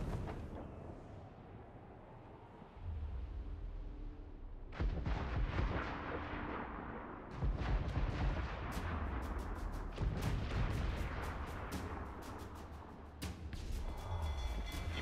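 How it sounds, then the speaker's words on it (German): Enemy cannons and gunfire pound a sailing ship at sea in Assassin's Creed Black Flag, a dense roll of heavy blasts and rumbling booms that swells and repeats across the scene, with only faint voices beneath. "Die schießen auf uns!"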